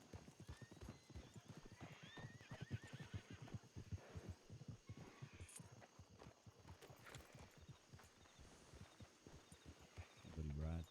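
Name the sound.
horse hooves in a video game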